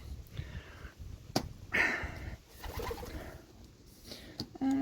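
A pet pigeon cooing in a loft at close range, soft repeated low coos among light rustling and clicks, with no one talking.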